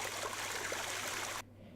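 A waterfall sends a steady hiss of rushing water, fairly faint and continuous, cutting off abruptly near the end.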